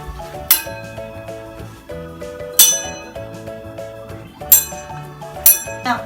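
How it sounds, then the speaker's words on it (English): A metal spoon struck with another spoon gives four bright ringing clinks, each decaying slowly with a sustained metallic tone, close and clear with no talking over them. "I'm gonna smack this spoon with another spoon to make a sound."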